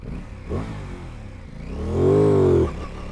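A 2024 Aprilia Tuono 660 Factory accelerates hard from a launch, its twin-cylinder engine climbing in pitch through a brief shift and rising to a loud, close, sustained rev before backing off, with wind rushing underneath.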